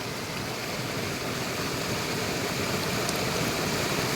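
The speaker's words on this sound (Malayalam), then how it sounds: "അങ്ങ് ദൂരെ മലമുകളിൽ നിന്ന് വരുന്ന വെള്ളമാണ്." A mountain stream runs fast and strong down from the hills in monsoon flow, a steady broadband rushing roar with no breaks.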